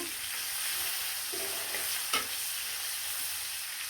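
Onion and tomato frying in a pan after fish has been removed, a steady close sizzle with soft stirring and one brief clatter midway.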